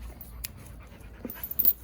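A pregnant bandog pants in short, soft bursts close by, the breaths growing louder and quicker toward the end, with no talk over them.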